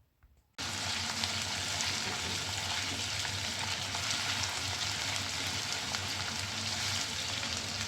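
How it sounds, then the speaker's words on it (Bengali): Half a cup of chopped onions drops into hot cooking oil in a pan for a mola fish chorchori, bursting into a loud, close, continuous sizzle that holds steady throughout. "একটা প্যানে পরিমাণ মতো কুকিং অয়েল দিয়ে গরম করে তাতে আধা কাপ পেঁয়াজ কুচি দিয়ে দিলাম।"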